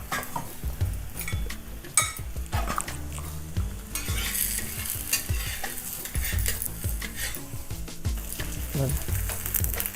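Gulachi poli, a jaggery-stuffed flatbread, frying with ghee on a pan over raised heat; busy close sizzling mixed with frequent scraping, tapping and utensil clinks throughout, with no talking.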